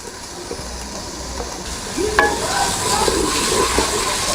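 Onions frying in a pan with garlic while cooking a matar mushroom curry, giving a steady hiss and sizzle with faint stirring clicks that grows slightly louder partway through, with no talking.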